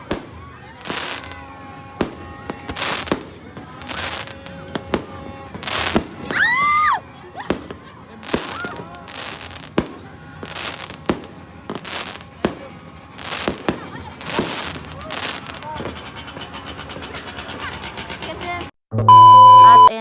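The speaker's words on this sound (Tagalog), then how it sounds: "Ayan guys, sobrang dami paputok." Fireworks and firecrackers burst in rapid succession, loud sharp bangs and whistling rockets coming one after another with crackling clusters near the end, and faint voices underneath.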